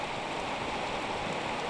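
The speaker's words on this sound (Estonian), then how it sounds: "Nüüd on näha, kuidas kõvasti vihma meil siin sajab." Heavy rain pouring down outdoors as a dense, steady broadband hiss, loud and unbroken throughout, with no voices over it.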